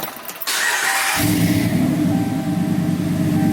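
A Ram pickup truck's engine cranks briefly and catches, then settles into a steady, close idle with a low mid-range hum.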